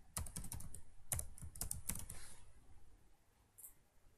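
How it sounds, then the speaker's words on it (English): Keys clack on a computer keyboard in quick, quiet bursts as text is typed, the keystrokes close, soft and irregular, fading out after a few seconds of near silence. "Okay, now type your text."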